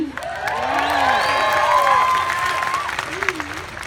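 A high school graduation audience cheers and applauds, producing a steady wash of clapping with whoops and shouts. It swells and then fades over a few seconds.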